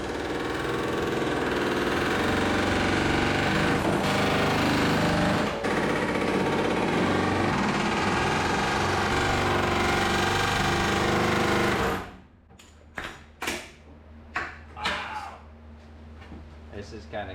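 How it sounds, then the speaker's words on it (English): A CP715 pneumatic air hammer cuts through the sheet-metal quarter panel of a Wagoneer, a loud continuous rapid hammering chatter lasting about twelve seconds before stopping, leaving a few scattered knocks and clanks. "I took my CP715 air hammer and finished off the job"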